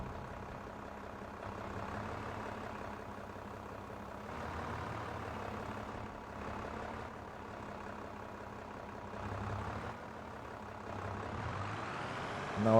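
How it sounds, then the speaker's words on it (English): A small tractor in a farming video game labouring under a heavy load, its engine droning low and steady with slight surges in revving, fairly quiet and alone. "I know this tractor is way too small for the load we are trying to move"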